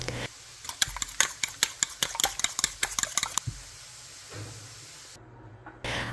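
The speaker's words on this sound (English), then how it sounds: "I whisk 1 room temperature egg, 2 tablespoons milk, and a pinch of salt" An egg wash of egg, milk and a pinch of salt is whisked in a bowl. About a dozen quick, sharp rhythmic clicks of the whisk against the bowl are heard, then it goes quiet.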